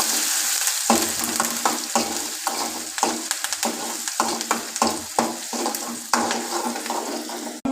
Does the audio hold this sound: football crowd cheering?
no